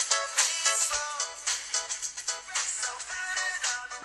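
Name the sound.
song playing at full volume on HTC Wildfire S phone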